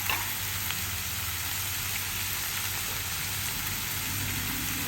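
Boneless fish stirred and cooking in a pan for a fish pie gives a steady, close sizzle of frying with a constant broadband hiss and no talk over it.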